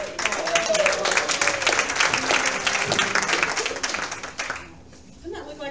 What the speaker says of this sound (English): Would they give them another round of applause?